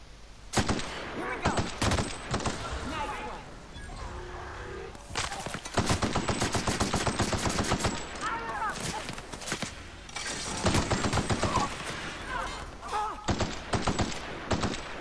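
Gunfire in The Outer Worlds video game: repeated bursts of rapid automatic shots and single cracks with loud fusillades separated by short pauses, while someone talks over parts of it.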